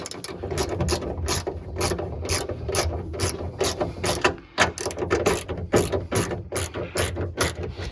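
Rapid rhythmic clicking of a ratchet tightening the rear bumper bolts on a 2002-2006 Toyota Camry, a steady run of close, crisp pawl clicks with brief pauses between strokes.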